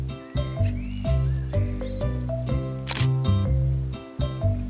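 A single sharp camera shutter click sounds midway through a children's animated cartoon about forest animals, briefly cutting through bouncy, plucked background music that plays throughout, with no speech.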